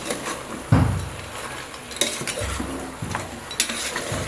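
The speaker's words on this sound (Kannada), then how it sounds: "ಸೊ ಇದಕ್ಕೆ ಸ್ವಲ್ಪ ಪೆಪ್ಪರ್ ಪೌಡ್ರ್ ಹಾಕಿ ಹುರ್ಕೊಳ್ಳೋಣ." Goat head meat roasts in a pan with pepper powder, a soft sizzle running under repeated scraping and clinking of a metal spoon stirring against the pan, close and fairly quiet.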